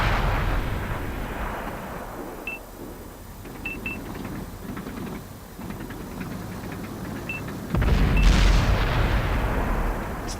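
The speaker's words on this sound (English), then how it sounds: "Good shot by the KV-4." A KV-4 tank cannon fires in World of Tanks, with a heavy, booming blast near the end following a long stretch of rumbling battlefield noise and a few faint beeps.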